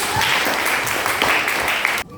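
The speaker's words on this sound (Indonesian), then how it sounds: "Boleh tepuk tangan dulu?" Classroom audience claps together on the teacher's request, a brief burst of brisk applause that cuts off abruptly after about two seconds.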